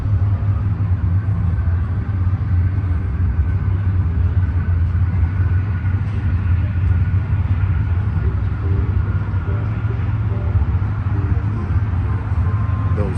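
A Grand Sport car idles with a steady, low engine rumble at a truck festival at a raceway park, heard from nearby amid faint crowd noise and scattered voices.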